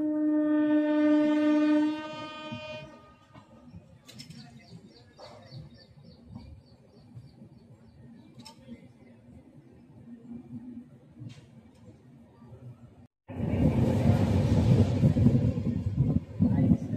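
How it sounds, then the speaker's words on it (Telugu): The 18520 Mumbai–Visakhapatnam LTT Express runs at about 120 km/h in light drizzle. A sustained horn blast opens the scene, then a low rolling rumble continues until a loud, close roaring rush takes over near the end. "ట్రైన్ అయితే 120 పట్టుకున్నాడు స్పీడు, దుమ్ము దులిపేసుకుంటూ వెళ్ళిపోతున్నాడు ప్రజెంట్"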